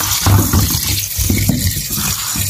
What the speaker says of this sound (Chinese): 为什么我们的蔬菜都会洗一下？